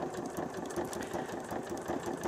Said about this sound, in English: you can go as fast as slow as you like, just depending on how you like to use the sewing machine